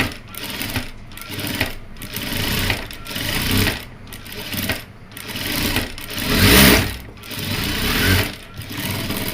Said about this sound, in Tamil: இப்போ இதை நம்ம அப்படியே தைச்சி எடுத்துடலாமா